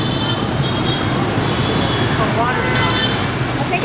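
Dense city street traffic in Vietnam, a constant close roar of engines and road noise with a high whine from passing vehicles and voices talking in the foreground.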